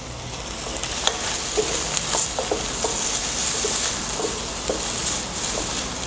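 Fresh green peas fry on a very high heat, a steady bright sizzle running throughout with occasional stirring clicks and scrapes, close and fairly loud, with no talking.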